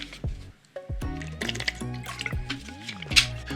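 Water poured into a drinking glass, close and clear, with gurgling, rising fill tones and drips over a few seconds, no talking.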